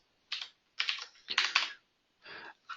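Short bursts of typing on a computer keyboard, quick clusters of keystrokes close by separated by brief pauses, with no talking.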